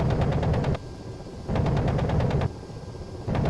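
The Ka-50 Black Shark helicopter's cannon fires in the DCS flight simulator in three loud, rapid bursts, each a close, harsh rattling stream of shots separated by brief gaps of lower rumble.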